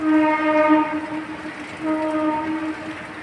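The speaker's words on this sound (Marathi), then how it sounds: "एक्सप्रेस आहे हा आहे वसई दिवा वसई मार्ग ही पण ट्रेन इथून दिसते" An express train on the Vasai–Diva line near Kopar station sounds two long, loud horn blasts, each a steady harmonic tone with a short gap between them. A rumbling rail noise runs underneath.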